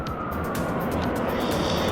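Ambulance siren sounding over steady road noise, with a faint wailing tone held throughout as the vehicles move past at a distance rather than close by.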